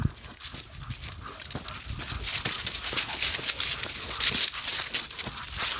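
A pit bull puppy scrambling around close underfoot indoors, with scattered scuffs, paw taps and shuffling thumps running irregularly through the whole stretch, moderately loud and near.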